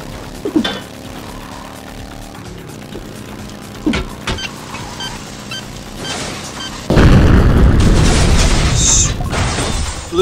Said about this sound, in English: Blew myself up with my own C4.